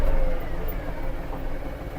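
The diesel engine of an Iseki TG-333 Hi-speed Japanese mini tractor drones steadily and builds slightly as it gathers speed, heard close and continuous for a couple of seconds.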